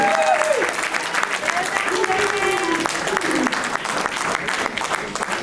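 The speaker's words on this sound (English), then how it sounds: "Please give a round of applause to Zain." An audience applauds at a Zoroastrian community patron award ceremony, a steady dense wash of clapping hands running throughout, with some tonal voice or music traces mixed underneath.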